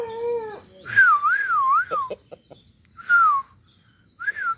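A native kattu seval rooster on a farm gives a brief, close crow at the start, followed by warbling whistled calls and short quiet gaps.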